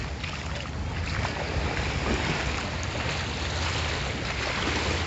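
Ocean waves wash steadily onto Waikiki beach in Hawaii, a continuous broad surf roar with gentle swells and some wind noise on the microphone, close and fairly loud with no talking.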